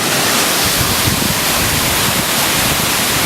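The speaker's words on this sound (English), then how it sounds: "stumble upon this big old waterfall" A large glacier-fed waterfall in the Valdez, Alaska area roars steadily as a loud, close, unbroken rush of falling water, with no voices.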